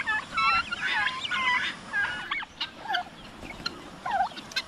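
Pet turkeys gobble in a series of bursts, joined by assorted farmyard fowl calls, fairly near and loud with no talking.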